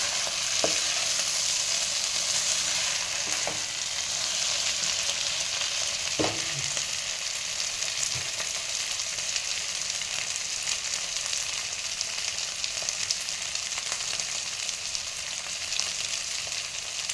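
Small potatoes with green chillies sautéing in a pan, a steady even sizzle running throughout with a few faint spatula scrapes and taps scattered over it.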